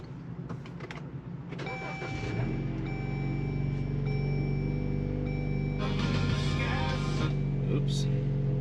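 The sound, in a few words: Jeep JL engine starting up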